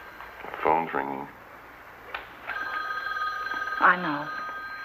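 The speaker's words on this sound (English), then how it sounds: "Phone's ringing." A telephone bell rings indoors in two short bursts with a pause between them. Voices talk over and around the rings.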